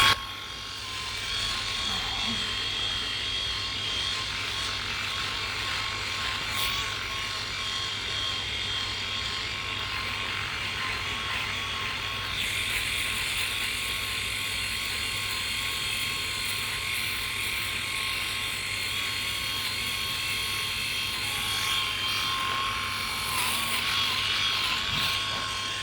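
A Philips i9000 (X9000) rotary electric shaver runs against the face in circular motions, a loud, continuous close-up buzz with shifting whirring tones and a soft rasp of stubble, lasting the whole stretch without talk.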